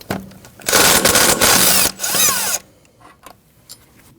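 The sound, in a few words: power tool removing 12mm ABS sensor bolt on Subaru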